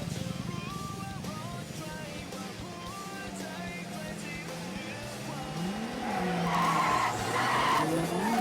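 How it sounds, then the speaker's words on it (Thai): Drift cars at the Pathum Thani circuit during a drift competition run, tires skidding and squealing continuously under a revving engine, with the screech swelling louder and more intense toward the end of the run. "ออกไปแล้วครับก๊อฟคอนที่ขับตุนิโฟนำครับตามด้วยเก่งพีดีที"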